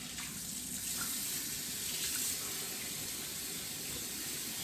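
Tap water runs steadily into a sink while cooked noodles are rinsed, a constant close splashing hiss with no voices.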